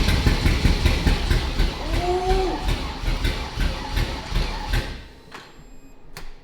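An abandoned Lamborghini Murcielago under rebuild, with a battery pack wired straight to the battery, cranks over steadily in a rhythmic, churning run that fades near the end without catching. No voices are heard.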